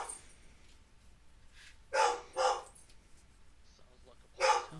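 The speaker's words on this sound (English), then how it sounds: "Whose dog is that?" A dog barks nearby in three sharp, separate bursts over a few seconds, with quiet gaps between the barks.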